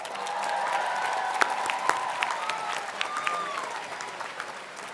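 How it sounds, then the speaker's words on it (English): A graduation ceremony audience applauds PhD graduates, a dense wash of clapping at moderate distance that swells and then tapers slightly, with a few sharper claps and faint crowd voices mixed in. "Let's give a round of applause for our PhD graduates."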